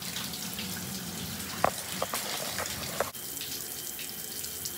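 Water runs steadily from a shower as a continuous hissing spray, close and fairly loud, broken by a few faint knocks and clicks partway through.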